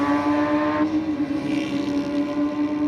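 A drag racing car launches down the strip at Sydney Dragway, flame flashing from its exhaust, giving a steady loud engine roar that holds for about three seconds, heard from a distance without talk.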